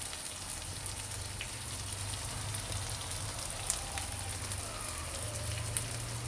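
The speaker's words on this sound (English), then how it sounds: "So let's keep on stirring every few minutes." Homemade XO sauce fries in a pan with a dense, steady crackling sizzle like light rain, close and continuous, with a low hum beneath and a few sharper pops.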